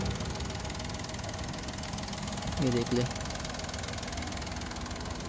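A 2014 Toyota Pixis Epoch with a 660cc engine idles with a steady low hum and rumble. Someone speaks briefly over it.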